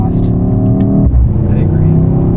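A Mercedes-AMG GT 63 S E Performance 4-Door, a 2024 model, accelerates with a loud, steady engine and exhaust drone that briefly dips and returns. People talk over it inside the cabin.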